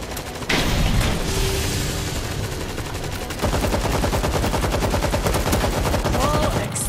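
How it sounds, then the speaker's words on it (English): Rapid automatic gunfire from an auto turret in the zombie shooter World War Z Aftermath, a dense continuous rattle that grows louder partway through and keeps going amid game noise, with faint voices mixed in. "Auto turret online!"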